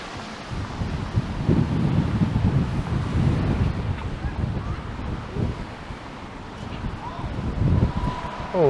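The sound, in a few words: wind blowing on a city street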